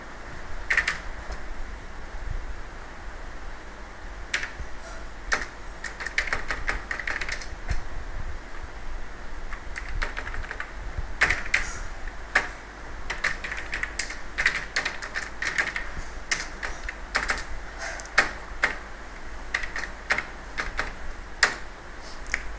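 Keys clatter steadily on a computer keyboard as an SQL query is typed, close and irregular keystrokes with a few louder strikes, over a faint background hum.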